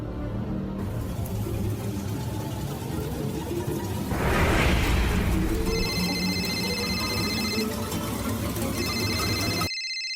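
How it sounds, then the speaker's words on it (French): A phone rings in a quiet indoor scene, its electronic ringtone repeating in short regular bursts partway through, with a soft rushing swell just before the ringing starts and an abrupt cutoff at the end. "Ton téléphone sonne."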